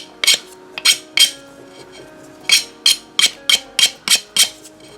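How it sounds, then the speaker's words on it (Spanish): A nail file scrapes the edges of a glass tray in short, bright rasping strokes, about a dozen bursts in uneven rhythm, close and crisp with no talking. "ahora lo que voy a hacer va a ser con una lima de uñas lijar los restos"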